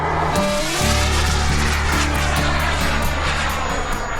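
A propeller military airplane drones steadily overhead near Newburyport, Massachusetts, a loud continuous engine hum with a low throbbing tone that persists throughout.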